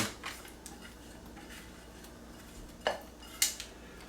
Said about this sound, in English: Just really flatten it out. I'm using a spatula.